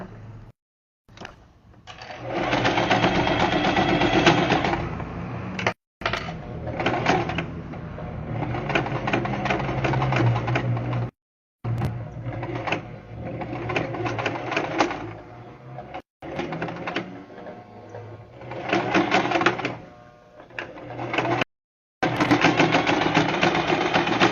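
Home sewing machine stitching a fabric diaper bag with a wipes pouch, running in long steady bursts with a few brief stops, close and fairly loud.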